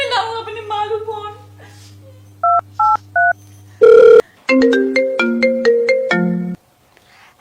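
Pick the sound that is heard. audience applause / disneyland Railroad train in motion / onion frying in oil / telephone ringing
telephone ringing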